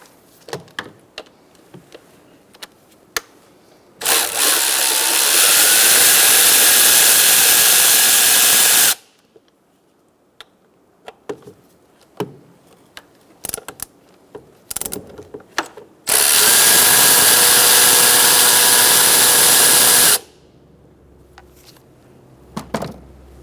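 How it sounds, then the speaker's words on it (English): Ratchet with a 10mm socket removing two bolts on a Chrysler 300 5.7 L engine, two long bursts of rapid, close clicking separated by quieter clinks and taps of tool handling. "Now we're going to take out these 2 bolts with a 10mm socket."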